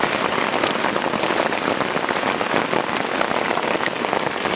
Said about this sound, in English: Rain is coming.